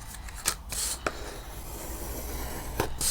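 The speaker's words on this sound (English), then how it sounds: "I like to burnish with my bone folder" A bone folder rubbed firmly along creased paper tabs, giving soft rasping strokes with a few sharper scrapes, close and fairly quiet with no talking.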